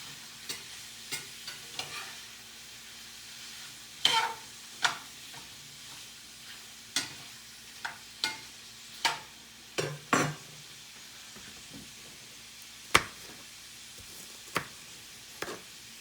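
Sausage frying in a pan and being stirred, with a steady low sizzle beneath a series of distinct scraping and clacking utensil strokes against the pan, spaced irregularly every second or so.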